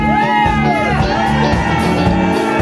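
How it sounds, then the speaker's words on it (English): Wedding reception guests cheering, whooping and yelling together in a loud, close burst of crowd excitement that carries through the whole moment. "can you help me welcome them with a huge, rousing round of applause? Let me hear you say yeah!"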